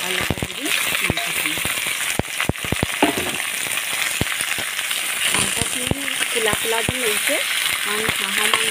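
Duck meat with onions, potatoes and pumpkin sizzling and frying steadily in a pan, with scraping stirring strokes and clicks of a spoon against the vessel throughout, close and continuous.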